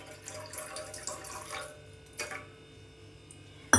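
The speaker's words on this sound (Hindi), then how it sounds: "और जितना दूध बचे हैं मैं इसमें डालूँगी पानी" Water poured from a tap or vessel into a pan holding leftover milk, a light splashing trickle that fades, then a brief clatter at the end.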